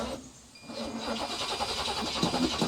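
An old ramp truck with an Edelbrock carburetor cranks briefly, then catches and fires, its engine rising into a rough, steady running note close by, with no talking.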